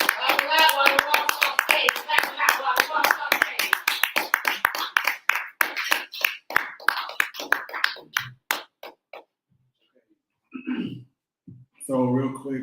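Lively applause from a small audience at an open mic night, dense claps for several seconds that thin into scattered individual claps and fade, followed by a short burst of talk.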